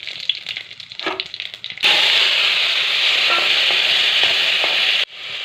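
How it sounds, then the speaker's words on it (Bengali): Dried red chillies and panch phoron sizzle loudly in hot oil for a mango chutney, a steady bright crackling hiss that starts abruptly after a few quieter pops and then cuts off near the end. "তেলটা গরম হয়ে গেছে, এই দেখো দুটো শুকনো লঙ্কা আর কটা পাঁচফোড়ন দিলাম"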